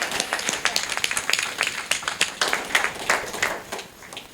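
Church congregation applauding, a dense run of many hands clapping with sharp irregular bursts that stay fairly steady through the whole stretch before easing slightly at the end.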